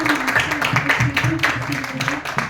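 Audience applause welcoming a guest on the fourth day of a Punjabi theatre festival, a steady patter of clapping that runs under someone speaking over a microphone.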